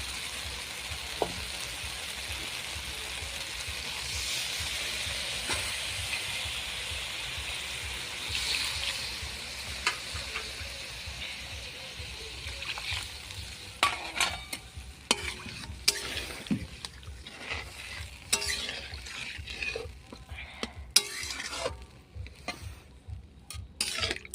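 Water poured into a hot pan of sautéed capsicum, giving a broad hiss and sizzle that slowly settles into bubbling with scattered clicks and stirring knocks, close by and moderately loud.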